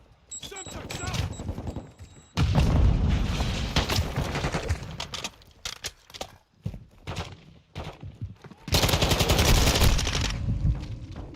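A Semtex grenade explosion and gunfire in a video game, with loud bursts of rapid shots, a heavy blast and dense crackling fire, with players talking over the action.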